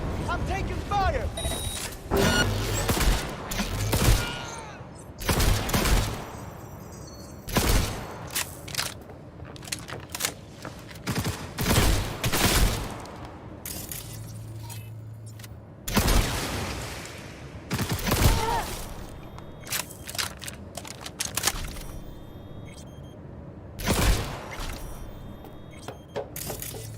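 Gunfire in the video game Cyberpunk 2077 comes in sharp, loud bursts and single shots scattered irregularly throughout, with voice chatter and mechanical clatter in the gaps between volleys.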